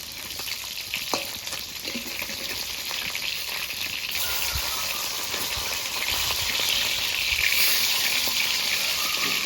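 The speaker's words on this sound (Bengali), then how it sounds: "মাছগুলো আর একটু ভাজা হতে থাকবে" Pieces of katla fish fry in hot oil in a pan, a constant close, loud sizzle and crackle with occasional spatters, running steadily without talk.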